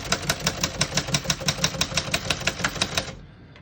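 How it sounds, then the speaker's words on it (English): Keys strike rapidly and evenly on a 1965 Remington Premier portable typewriter, a close run of about twenty crisp clacks that stops abruptly near the end. "As you can see, all the keys type nice,"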